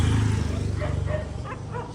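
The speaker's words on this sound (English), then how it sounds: "they just stay out and just have a little bark at everybody as they go past" A dog barks at people walking past on a street outside a restaurant in Bali, with short barks nearby over a steady low engine hum from passing traffic.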